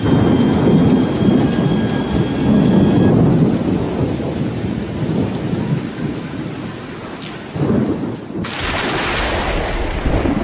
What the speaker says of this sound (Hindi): ये शोर है उम्पुन तूफान का, जिसने आज पश्चिम बंगाल और ओडिशा को हिला दिया